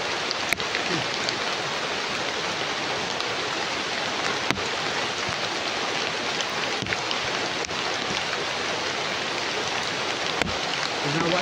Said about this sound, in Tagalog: palagi na yung ulan ba?